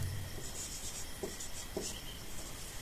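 Pen or marker writing out a trigonometry problem, a steady faint scratching with a few light taps, close up over a constant background hiss.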